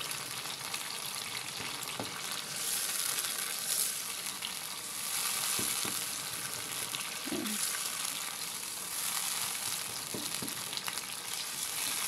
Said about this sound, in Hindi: मसाले को हम भूनते जाएंगे।